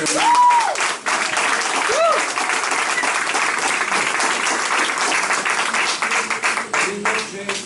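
Congregation applauding at the close of a Catholic Mass, a dense wash of clapping hands filling the room, with brief sung or called-out voices rising over it early and near the two-second mark.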